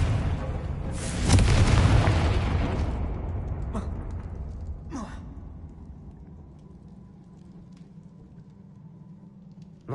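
A Confringo spell explosion goes off in Hogwarts Legacy: a loud booming blast that rolls out over a couple of seconds and fades, followed by a few sharp cracks and a low lingering rumble.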